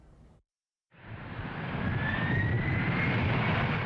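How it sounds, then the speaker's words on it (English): Jet engines at UPS Worldport in Louisville roar up after a short silence, a broad, loud, sustained rumble with a faint whine running through it, with no voices over it. "From the unending roar of jet engines to the constant hum of conveyor belts"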